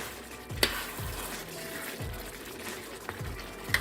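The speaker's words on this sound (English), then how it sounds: "Give it a good stir." Jamaican oxtail sizzles steadily as it fries in a pot, with a spoon sweeping through it in repeated stirring strokes about once a second, close and moderately loud.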